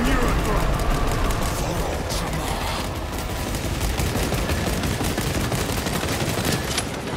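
Dense continuous gunfire and bursts of combat noise in Warhammer 40K Space Marine 2, loud and unbroken throughout, with a person talking partly over it.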